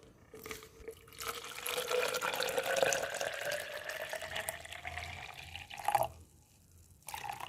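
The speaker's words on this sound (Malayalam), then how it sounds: "ഇനി ഇതിലേക്ക് കുറച്ച് വെള്ളം ഒഴിച്ച് നന്നായിട്ട് ഇളക്കിയെടുക്കുക" Water poured into a container of sieved soil powder, a continuous trickling fill whose pitch slowly rises before cutting off, followed by a brief splash and quiet near the end.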